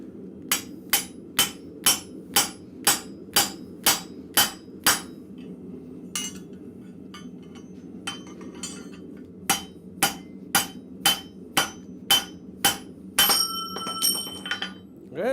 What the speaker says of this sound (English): I'm gonna try and actually just put my drift through or my round punch through.